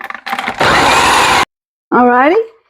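An electric food processor chops peppers and onions finely for peach salsa, a loud steady whirring burst of about a second after brief rattling, then a short second run; a voice speaks briefly near the end.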